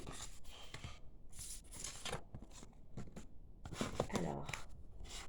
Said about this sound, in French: Je vais juste ranger rapidement les cartes.